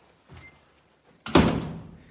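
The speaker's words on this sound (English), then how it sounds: "Everybody wants me to close the roof door" A roof door slides shut with a soft rumble and then closes with a loud, heavy thunk, close by, its rumbling tail fading over about a second.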